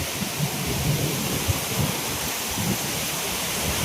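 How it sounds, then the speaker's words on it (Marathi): Heavy rain pours down steadily with wind, making a dense, continuous hiss at close range with a low rumble underneath. "पाणी बघ किती, बारिश."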